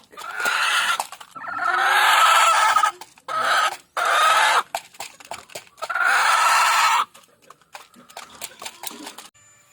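Backyard chickens cluck and squawk in loud repeated bursts separated by short pauses, the calls close and dominant with quieter rustling between them.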